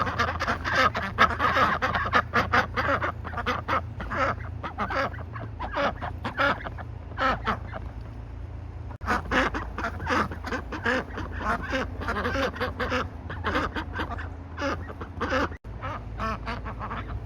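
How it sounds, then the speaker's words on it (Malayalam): Ducks on snow quack loudly and continuously at close range, many overlapping calls in quick bursts forming a dense chorus, with a brief pause before the flock resumes. "ഞാൻ ഈ താറാവുകൾ ഇങ്ങനെ വെള്ളത്തിൽ നീന്തി പോണത്, അല്ല സ്നോയിൽ നീന്തി പോണത് കാണിക്കാൻ വേണ്ടിയിട്ട് ഇങ്ങോട്ട് വന്നത്."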